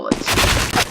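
Rapid gunfire in the game CBRO, a loud, dense burst of shots fired in quick succession, lasting under a second, with no talk.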